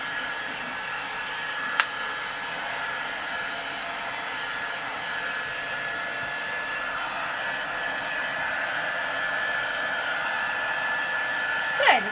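A heat gun blows continuously while drying mixed media craft tags, a steady loud whooshing roar with a faint click near the start and a slight bump at the end, no voices.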